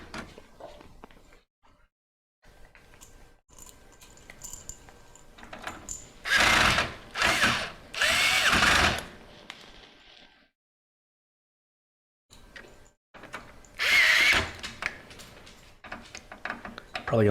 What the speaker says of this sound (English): I'm going to pull out the old electric driver, which has a 6-inch long skinny bit